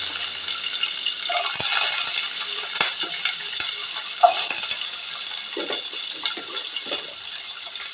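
Small shallots are tipped into hot oil in a pan and stirred, giving a steady frying sizzle with soft scrapes and light clinks of the spatula while a broad beans kuzhambu is being prepared.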